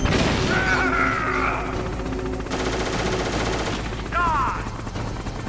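Gunfire in the Metal Gear Solid video game, rapid game-audio shooting and blasts layered with sweeping synthetic tones, loud and continuous.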